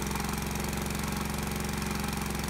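A small engine on a dynamometer labors under added alternator electrical loads, giving a steady, loud, rapidly pulsing mechanical chug at constant speed, alone without talking.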